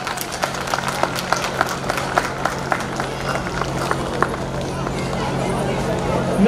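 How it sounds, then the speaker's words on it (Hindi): An audience at a Dr. Ambedkar Jayanti event applauds, with steady rhythmic clapping running under an announcer's voice as people are welcomed one by one. "इनके लिए भी जोरदार तालियां"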